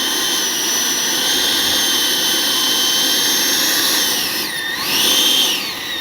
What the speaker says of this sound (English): Greg, you must land the Phantom now.